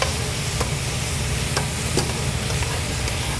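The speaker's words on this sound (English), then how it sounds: "give it a good stir" Lo mein is stirred in a hot pan, a steady sizzle running underneath while a utensil scrapes and taps the pan in a few distinct strokes, close and fairly loud.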